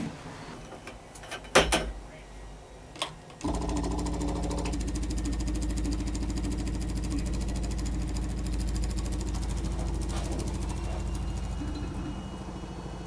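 A fuel pump draws waste oil through a fuel line: a few knocks and clunks come first, then a steady, loud mechanical buzz sets in and holds unbroken to the end.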